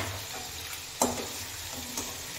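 Cauliflower florets and washed potatoes frying in a pan at home, a steady sizzle with a sharp clatter of stirring near the middle and a softer knock toward the end.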